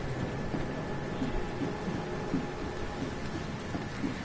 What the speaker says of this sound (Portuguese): Não para de chover.